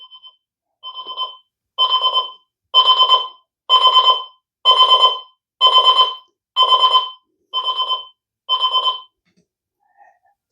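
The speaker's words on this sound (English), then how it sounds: "you can get from very quiet to very loud with the alarms" An OnLyee projection alarm clock beeps in nine evenly spaced bursts of rapid tones, starting softly and growing louder, then stopping, with no voices.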